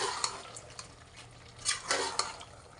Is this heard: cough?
no